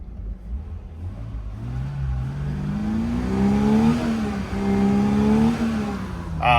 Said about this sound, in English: if you gently rev it, she'll rev and come back down to 700 RPM idle and sit here and hold it